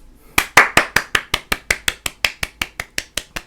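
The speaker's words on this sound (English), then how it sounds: "Let's get a round of applause for SoFi." One person clapping steadily, about sixteen crisp, evenly spaced claps at a brisk pace, close and loud, with no talking over them.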